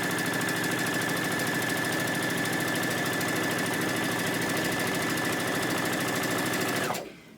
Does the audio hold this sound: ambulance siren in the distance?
no